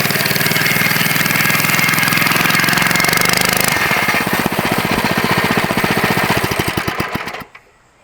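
A small minibike engine drones loud and close under steady throttle, its buzzing pitch shifting midway into a rapid pulsing chug before dropping away abruptly at the end.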